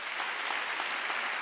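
A church congregation at a Wednesday worship service bursts into sustained applause, a dense, steady wash of many hands clapping together for the whole stretch, with no voices standing out.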